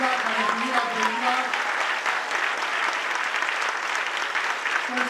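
Audience applause at a Christmas stage show with dancers, a steady dense wash of many hands clapping throughout, with a voice speaking briefly over the start.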